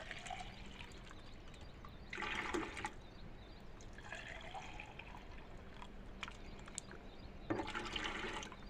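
Water sloshes and swirls as a plastic container is rinsed out, in several faint bursts of splashing over a quiet background.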